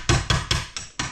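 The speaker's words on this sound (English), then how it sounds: "first thing we need to do is knock this little roll pin out here" Five sharp metallic hammer blows on a pin punch, driving a small roll pin out of a Volkswagen T4 door lock, struck at a steady rhythm about a quarter second apart, close and loud with no talk.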